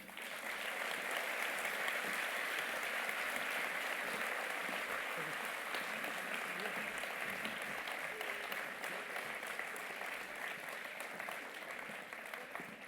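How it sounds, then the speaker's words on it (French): An audience at a municipal New Year's greetings event in Herblay applauds city council members on stage, with sustained, dense clapping from a large crowd throughout. "et nous pouvons les applaudir."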